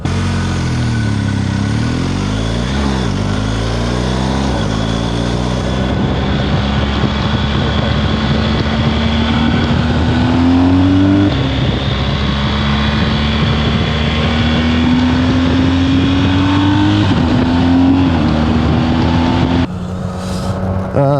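A BMW R1250 GS Adventure Rally motorcycle ridden on open country roads, its boxer engine droning loud and close with rising and falling revs through gear changes, wind rushing steadily over it.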